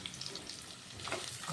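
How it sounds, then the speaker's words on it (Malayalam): Coconut pieces fry in a pan with a steady, fairly quiet sizzle and crackle that runs throughout, with no talking. "തേങ്ങ കൊത്ത് നമുക്കൊന്ന് വറുത്തെടുക്കാം കേട്ടോ"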